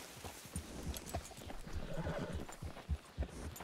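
A horse in Red Dead Redemption 2 whinnies and clops its hooves in a short burst of uneven, fairly close footfalls, with no talking over it.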